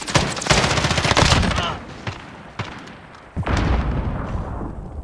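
Video game gunfire crackles in dense rapid bursts, loud and close at the start, then a few isolated sharp shots, then another sustained volley; voices are faint underneath.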